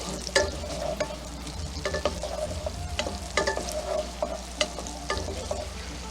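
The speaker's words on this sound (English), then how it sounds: "I want to give a good saute to this" Chopped celery sautéing in a pan: a steady crackling sizzle punctuated by regular scrapes and taps as it is stirred, close and clear, with no voices.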